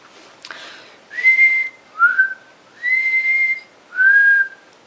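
A person whistles four sustained notes in slow sequence, clear and close, with short pauses between, after a brief breathy sound at the start and no talking.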